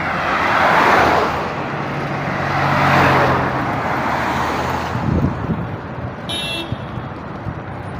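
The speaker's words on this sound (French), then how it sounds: "La circulation est très fluide." Road traffic flows steadily past a wholesale market under construction in Gesco, with swelling engine rushes, heavy wind buffeting and a brief horn-like tone near the end.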